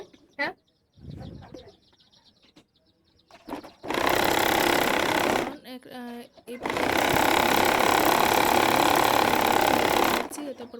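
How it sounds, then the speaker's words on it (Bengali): A sewing machine runs in two long bursts stitching a V-neck kameez, steady whirring needle clatter up close, separated by pauses with quieter handling noise and a brief voice. "একটা পার্ট সম্পূর্ণ সেলাই করে এইভাবে অপর পার্টটাও সেলাই করে নেব"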